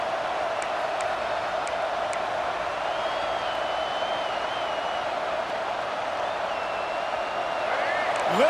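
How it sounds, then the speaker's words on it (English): A large stadium crowd in EA Sports College Football 26 roars in a continuous, dense wash of cheering, with faint whistles rising through the noise and no break in the din. "Listen to this crowd just shaking the girders of this place, trying to help their defense."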